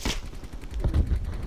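Rapid gunfire from a Call of Duty: Black Ops Cold War multiplayer match, a burst of close, loud shots with heavier low thumps toward the end, no talking.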